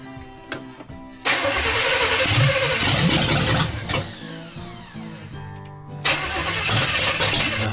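A 1977 Chevrolet Caprice V8 cranks and starts, catching loudly, then runs roughly with uneven revs and a pop or backfire before settling into a loud idle, close up.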